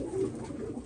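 Iraqi racing pigeons in their loft give a short, soft low coo, close by and alone, with no voices over it.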